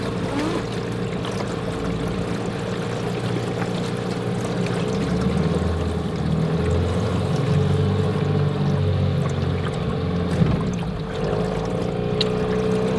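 A motorboat cruises slowly through limb lines on the water, its engine a steady low drone under light water splashing, continuous and fairly close throughout.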